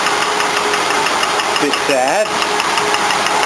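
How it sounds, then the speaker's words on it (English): An old car's engine idles with a steady mechanical drone while its air-conditioning compressor knocks. A voice briefly speaks over the running engine. "You'll notice the compressor's starting to sound a bit knocky."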